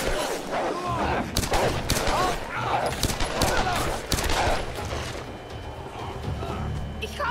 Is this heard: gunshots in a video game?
yes